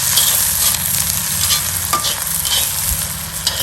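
Red and green peppers stir-frying in oil in a Lodge wok over a Weber charcoal grill, a loud close sizzle throughout with repeated scraping and clanking of the utensil against the iron.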